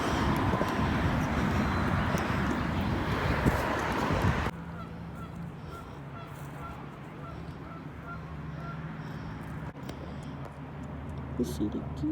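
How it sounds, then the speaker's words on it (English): Geese honk repeatedly at a distance by a lagoon on the Northern Illinois University campus, over outdoor ambience, with a louder rushing wash of sound at the start before it settles. "You see the geese."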